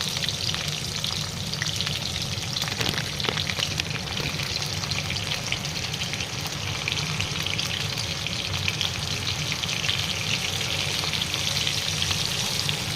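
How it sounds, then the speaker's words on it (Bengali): Potatoes fry in hot oil for a mutton curry, a dense, steady, close crackling sizzle that runs unbroken throughout with faint scrapes, no voices. "এই আলুগুলো আমি লাল লাল করে ভেজে নিই।"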